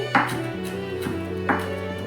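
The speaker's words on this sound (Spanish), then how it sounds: "Vamos a picar el cilantro. Picamos bien, picado" A knife chops cilantro on a board in a few sharp, close taps over steady background music, two of the strikes standing out clearly; nobody talks.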